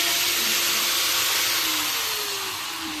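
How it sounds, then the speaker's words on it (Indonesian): A powered cutting tool slices material for the support pole of a small wind-turbine prototype, producing a loud, steady, close grinding roar with a thin whine that slowly drops in pitch. No one speaks. "kita potong untuk tiang penyangganya"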